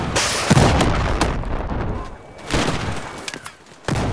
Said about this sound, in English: But if I do maintain my lock, the missile hits its target.